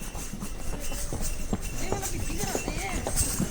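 Horse hooves clip-clop along the Vaishno Devi pilgrimage path near Katra, a steady, fairly quick rhythm heard under ongoing voices and crowd noise.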